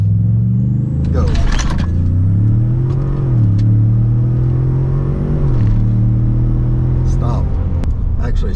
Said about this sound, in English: I am launching in 4-wheel drive with traction control off